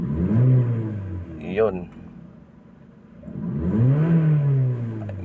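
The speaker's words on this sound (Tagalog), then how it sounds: "Engine start. One click. RPM check." A Honda Civic engine revs twice, each rise and fall of revs near and loud, separated by a short lull; a brief voice is heard between the revs.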